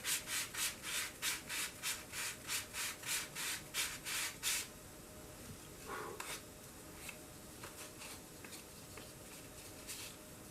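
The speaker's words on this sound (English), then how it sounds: "Usually I sand the parts individually instead of in a block of 4." Rhythmic back-and-forth sanding strokes on balsa wood parts, about a dozen even scrapes, then quieter scattered rubbing and light taps, close and faint.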